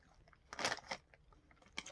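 Someone bites and chews crunchy Cheetos close to the mic, a few sharp crisp crunches in quick bursts separated by quieter chewing, faint overall.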